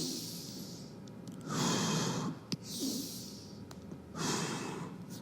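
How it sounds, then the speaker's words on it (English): Hand stretch breathing in a yoga routine for asthma: slow, audible inhalations and exhalations come in long airy waves close to the microphone over a soft background hiss, with no speech. "Hand stretch breathing."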